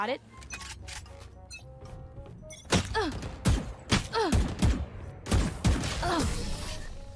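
Rapid bursts of gunfire from the video game Valorant crack out in clusters, loud and sharp, with excited voices talking over and between the shots.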